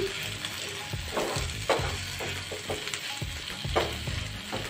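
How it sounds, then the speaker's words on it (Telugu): Onion fried in oil with ginger paste just added sizzles steadily in a pan, broken by repeated close scraping strokes of a spoon stirring, loud and alone without voices. "ఉల్లిపాయ వేగిపోయింది, అల్లం పేస్ట్ వేసేసుకుని ఒకసారి కడిపేసుకుని స్టవ్ ఆపేసుకుందాం"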